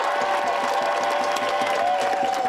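A protest crowd outside the Seattle mayor's home cheers and claps in a steady, dense roar, with a sustained tone running underneath.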